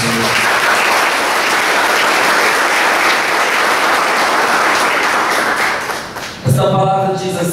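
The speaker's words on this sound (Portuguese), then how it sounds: "Vamos aplaudir a palavra de Deus." A church congregation applauds together, a loud, dense, sustained wash of clapping that ends abruptly near the close, followed by a brief burst of other sound.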